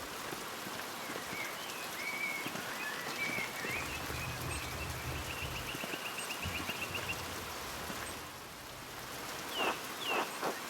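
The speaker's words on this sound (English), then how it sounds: "These chickens are out in the rain." Steady, soft rain patters in the medieval-styled video game Pentiment, a quiet continuous hiss with faint bird-like chirps surfacing near the end.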